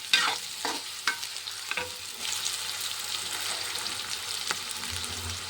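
Onion being stir-fried in a pan for a chickpea leaf dish, an even sizzling hiss with a few sharp spatula scrapes and clinks at the start, close up and without talk.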